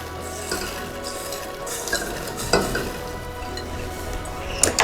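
Popcorn is stirred into hot, browned salted caramel in a pan, giving a steady sizzle with scraping stir strokes and a few sharper clinks, loudest near the middle and the end.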